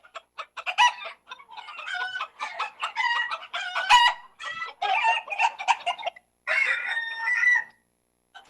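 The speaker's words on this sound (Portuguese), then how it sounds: "Esse que tá vindo aí é o galo, ó." A rooster on a farm where hens are raised for chicks and eggs crows and clucks in a run of loud, close bursts with short pauses between them.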